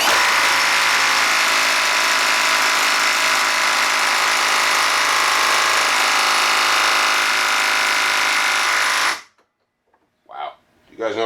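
A Milwaukee M12 Stubby impact wrench tightening in a vise during a torque test: loud, continuous rapid hammering rattle for about nine seconds, then it stops abruptly and brief speech follows.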